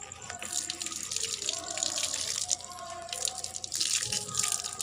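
Running water rinses hair before shampooing, a steady splashing, trickling flow heard close up with faint voices in the background.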